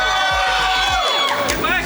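An audience at a convention panel cheers and whoops together, many voices yelling at once in a loud, dense burst that swells and shifts.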